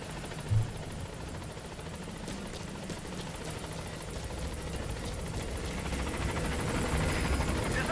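A helicopter arrives at the landing zone in Metal Gear Solid V: The Phantom Pain, its steady rotor rumble and whine swelling slowly from far off to closer and louder, with a brief thump near the start.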